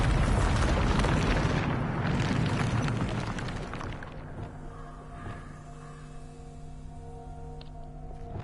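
A Bombarda blasting spell exploding in the Hogwarts Legacy video game, a loud rumbling boom that rolls off into a fading roar, with faint game ambience and tones lingering after.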